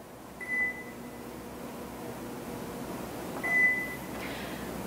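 An 800 to 1000 watt microwave oven set to 40% power for acrylic polymerization gives two short electronic beeps about three seconds apart over a faint steady running hum.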